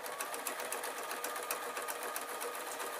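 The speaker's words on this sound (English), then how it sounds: "I've got my machine threaded up" A basic sewing machine runs steadily, stitching through quilt fabric in a continuous rapid mechanical whir with fine regular needle ticks, close and alone without talk.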